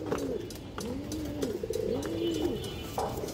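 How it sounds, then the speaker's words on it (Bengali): Giribaz pigeons, high-flying pigeons kept for sale, coo in a series of soft, rising-and-falling calls close by, three or four in a slow rhythm. "মাশাআল্লাহ খুব সুন্দর কবুতর।"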